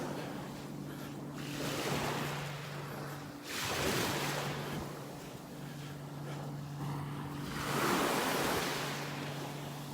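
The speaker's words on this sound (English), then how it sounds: "Some little waves here lapping on the shore." Gentle surf washing onto a calm beach in North Naples, Florida, in slow, small swells, with a low steady hum from a passing boat's engines running underneath throughout.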